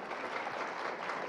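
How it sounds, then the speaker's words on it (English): A brief, fairly faint patch of steady applause from a solar energy summit audience, many hands clapping together with no speech over it. "may I hear your applause here?"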